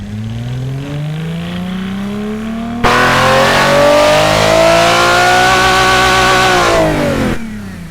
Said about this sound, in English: now let's see how it sounds